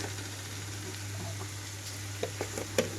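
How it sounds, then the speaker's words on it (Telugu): Boiled cauliflower and broad bean pieces go into frying tomatoes, with a low steady sizzle followed by a few soft thuds and clinks as they land and are moved in the pan. "ఇప్పుడైతే ఇందులోకి ఆల్రెడీ ఉడికించి పెట్టుకున్న క్యాలీఫ్లవర్ చిక్కుడుకాయ ముక్కలు వేసేసుకుంటున్నాను"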